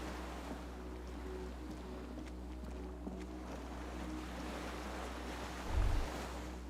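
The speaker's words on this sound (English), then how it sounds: "skiff is swaying on the waves by the dock" In Disco Elysium, a skiff sways on the waves by the dock: a faint, steady wash of lapping water and low wind, with a brief low thump near the end.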